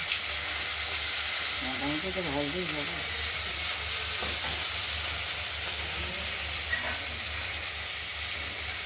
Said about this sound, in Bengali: মাছগুলোর এক পিঠ ভাজা হয়ে গেছে, আরেক পিঠটা ভেজে নেবো